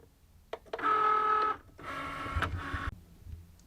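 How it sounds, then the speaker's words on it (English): Cricut cutting machine scoring lines into a sticker sheet: two steady mechanical whirring passes with a sustained motor tone, separated by a short pause and ending with a click, close and fairly loud, no talk. "So this is it scoring all the lines I've made."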